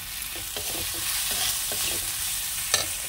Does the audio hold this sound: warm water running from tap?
no